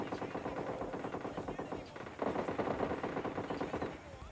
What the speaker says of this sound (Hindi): सेंट्रल रोड की तरफ फायरिंग की साउंड आती है